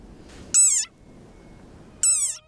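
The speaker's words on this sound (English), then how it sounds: "This is the sonorous war cry of a very angry frog." An angry frog gives two loud, harsh croaks separated by a short pause, each call buzzing and ringing, over a faint background hiss.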